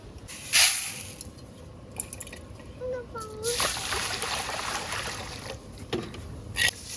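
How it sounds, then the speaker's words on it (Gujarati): Raw rice is rinsed in a pot of water by hand in a home kitchen, with light sloshing and splashing in uneven bursts while someone talks throughout. "ચોખાને ધોઈ નાખીએ"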